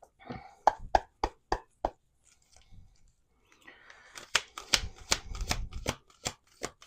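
A large 100-card oracle-style deck being shuffled by hand, close and fairly quiet. Crisp separate card slaps come first, then a pause, then a busier riffling stretch of rustles and snaps.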